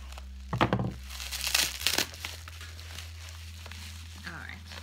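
Plastic wrapping crinkles and tears as it is pulled off a handmade flipbook, in a few loud bursts over the first two seconds, then quieter rustling with a faint voice near the end.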